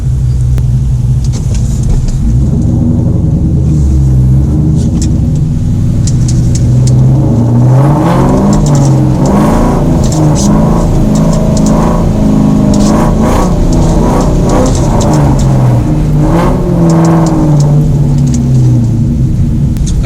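A car engine revs and surges repeatedly while drifting, rising and falling in pitch with a loud, close rumble and whine, no talking.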